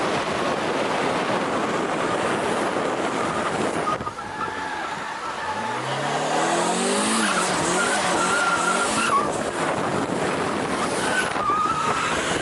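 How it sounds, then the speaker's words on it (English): Turbocharged Mazda Miata drifting in a street cul-de-sac, with a loud, sustained engine roar and screeching tire squeal running nearly the whole way, a brief dip partway before the skid returns at full strength. "Drifts."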